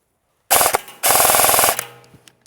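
A Novritsch SSR249 airsoft M249 fed from a high-capacity M4 magazine fires a brief burst, then a longer sustained rattling burst of rapid shots, loud and close, fading into quiet after.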